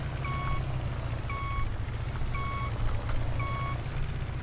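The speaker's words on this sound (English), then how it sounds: "Let's get rid of the annoying beeping." A tractor in the farming game Farm Expert 2016 sounds its reversing alarm: four evenly spaced double beeps ring out over a loud, steady engine rumble.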